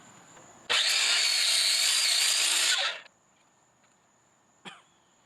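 A circular saw bites into a 4x4 wooden mailbox post with a loud, steady whine for about two seconds, then spins down. A faint hum lingers, followed by a single short knock.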